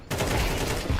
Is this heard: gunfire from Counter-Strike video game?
yes